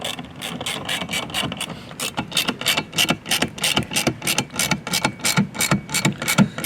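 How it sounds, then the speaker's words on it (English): A ratchet tightens bolts while a part is installed on a 2021-2024 Ford Mach-E, loud close steady clicking in quick even strokes with no one speaking. "We'll go ahead and tighten her up."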